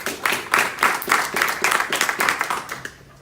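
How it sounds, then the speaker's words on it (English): An audience at a presentation gives a short round of applause, a close, dense patter of clapping with uneven bursts that dies away after a few seconds. "Let's give her a round of applause."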